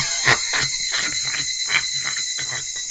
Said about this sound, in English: Well, they are cicadas, but Higurashi.